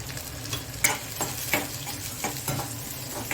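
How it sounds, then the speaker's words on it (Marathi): Finely chopped onion and curry leaves fry in hot oil, giving a constant close sizzle broken by regular scraping stirs about every half second to second, with no talk. "कांदा व्यवस्थित तळून घ्यायचा आहे"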